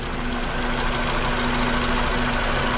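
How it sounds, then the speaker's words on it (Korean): A Toyota RAV4 gasoline engine idles with a steady, even hum, loud and close, with no other sounds. "엔진 소리 휘발유 엔진 그대로고요"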